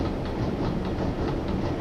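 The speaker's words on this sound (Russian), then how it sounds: "Товарняк." A Russian Railways freight train rolls past on a roadside line, giving a steady, loud rumble with rhythmic clickety-clack of wagon wheels over rail joints, continuous and close, with no voices.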